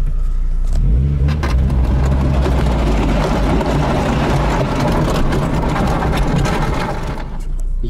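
A Lada 2112 slammed all the way down on air suspension pulls away, its engine loud and close with a steady revving drone and rumble that holds throughout before easing slightly at the end.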